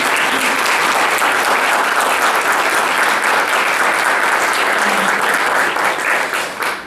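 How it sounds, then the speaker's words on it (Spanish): An audience claps at a book presentation on addictions, a dense, loud, continuous round of applause that carries on steadily and tapers slightly near the end. "Creo que se merecen un aplauso."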